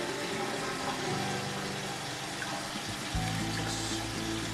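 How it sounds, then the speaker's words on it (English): Water pours steadily from a tap into a bowl set on a kitchen scale while making sourdough, a continuous filling rush that shifts in pitch near the end as the level rises. "all I'm doing is putting water in it, and it's going to measure out 620 grams"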